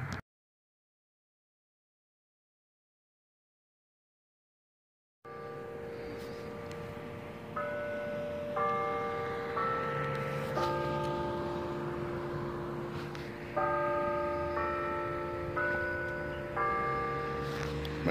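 A clock chime strikes the hour, ringing out a repeated bell-like melody after several seconds of silence, its tonal phrases sounding again and again, clear and moderately near.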